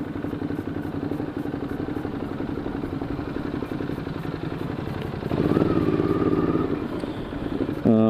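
A Ducati Hyperstrada V-twin engine runs steadily with a rough, pulsing rumble, swelling louder partway through as it revs, with road noise around it on a San Francisco street.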